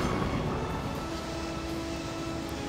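A steady, droning airplane engine hum from the air traffic control video game Final Approach, holding a constant pitch and level throughout without talk.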